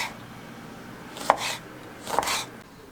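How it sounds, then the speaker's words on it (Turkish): Lemon sliced thinly with a knife for homemade mixed cabbage pickle, two distinct close cuts a second apart, each a brief crisp chop over quiet background. "Limonumuzu da ince ince içine dilimleyeceğim"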